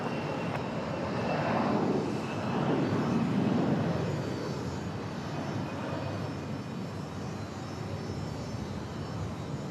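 A Delta airliner bound for Los Angeles departs Raleigh Durham airport, its jet engines a broad, sustained roar that swells and then holds steady at a distance.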